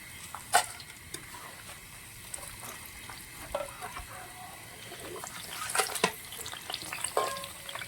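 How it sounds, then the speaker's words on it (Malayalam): Cassava (tapioca) slices deep frying in hot oil for Onam chips give a steady low sizzle, broken by sharp clinks and scrapes of a stirring ladle. "ഓരോ കപ്പയും നമുക്ക് ഇതുപോലെ വറുത്തെടുക്കണം"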